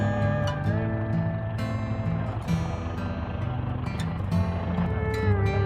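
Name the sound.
Cessna 172 engine check before takeoff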